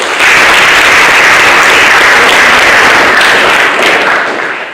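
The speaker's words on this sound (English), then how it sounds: "how about a nice round of applause for your advisors, Mrs. DeAlexander and Mrs. Becker." Audience applause at a high school National Honor Society induction ceremony, a loud, dense and sustained burst of clapping from a large crowd that holds steady and tapers slightly at the end.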